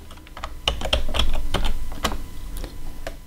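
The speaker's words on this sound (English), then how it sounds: "I'm just going to type YOURLS in this search bar on the left." Typing on a computer keyboard while entering a search term into the search bar of a Softaculous web dashboard, heard as a close, uneven burst of sharp key clicks with no talking.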